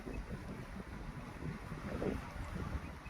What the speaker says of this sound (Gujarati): પણ અત્યારે પવન એટલો બધો હોય ને